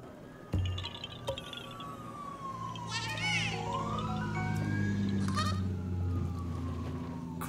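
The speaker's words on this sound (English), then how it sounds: "those sirens are still going." Wailing sirens in Zelda: Breath of the Wild on Hebra Mountain, a falling and rising tone sweeping over a low steady drone, with soft game effects and a few sharp clicks.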